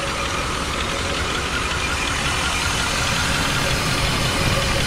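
A 1989 Chevy Caprice engine runs steadily at idle, a constant close mechanical rumble with a slight knocking texture and no other sounds.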